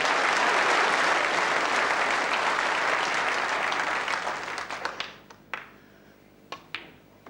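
A snooker audience at the 1979 World Championship applauds after a good shot, a dense burst of clapping that holds steady for several seconds, then thins out into a few scattered claps before falling quiet.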